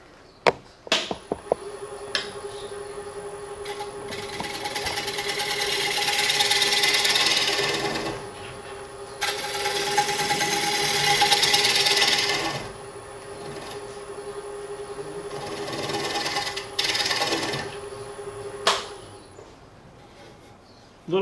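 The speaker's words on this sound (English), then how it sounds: "take my trusty scraper" A hand scraper drawn in repeated long, loud strokes across a square wooden bowl on a lathe, each pass a rasping swell of several seconds over a constant motor whine.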